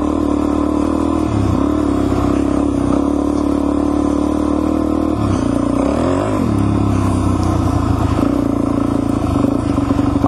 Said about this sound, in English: I hate driving through all this shit.